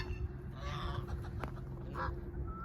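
Geese, part of a flock of fourteen kept with ducks, give a few short honks and calls over a steady low background hum, fairly close.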